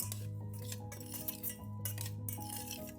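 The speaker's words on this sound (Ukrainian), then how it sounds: "туди ж кладу 2 столові ложки цукру" A spoon adds sugar to strawberries in a saucepan, with a few quiet, close metallic clinks and scrapes over a steady low hum and no talking.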